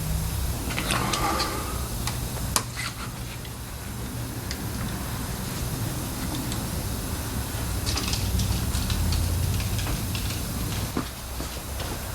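A Corvette C3 engine cranks over without catching after upgrades, a steady mechanical churning from the starter, fairly close, with faint clicks and no engine firing throughout.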